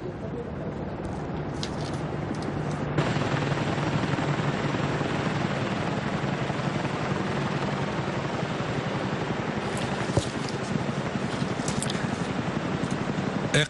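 An aircraft flies in over a military parade on the Abu Dhabi corniche, a loud, continuous rotor-and-engine roar that swells after a few seconds and holds steady throughout, with no talk over it.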